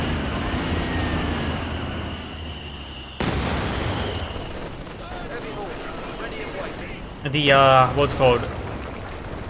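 A sudden heavy blast from a 120 mm artillery barrage in the Company of Heroes 2 strategy game, followed by rumbling battle noise and a later burst of sharp gunfire, with a commentator talking over it.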